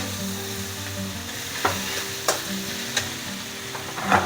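Mustard and turmeric sizzle steadily in a hot pan, a continuous close frying hiss with a few sharp stirring clinks and scrapes against the pan.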